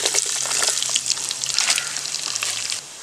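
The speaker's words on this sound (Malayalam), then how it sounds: "ഇനി നമുക്കത് കൊത്തി വെച്ച തേങ്ങ അതിനകത്തോട്ടങ്ങിടാം." Chopped coconut crackles and sizzles loudly in hot oil inside a heated clay pot, a dense continuous frying hiss with scattered pops, close up, easing slightly near the end.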